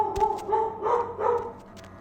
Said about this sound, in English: Y'all can probably hear barking away